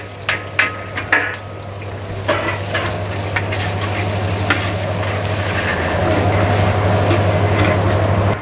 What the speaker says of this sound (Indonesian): Bawang putihnya masuk.